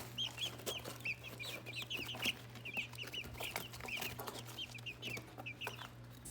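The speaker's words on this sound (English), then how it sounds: "So what do we got? 11 chickens? Chicks? 11 chicks." Soft chirping and clucking of eleven chicks, many small peeps scattered steadily throughout, faint against a low background hum.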